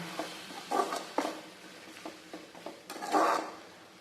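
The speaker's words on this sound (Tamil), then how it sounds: "உப்பு சேர்த்துட்டு நல்லா வதக்கி விட்டுக்கலாங்க" Tomatoes with salt being sautéed in a pan, soft sizzling under a few scraping stirs and light clatters, fairly quiet and close.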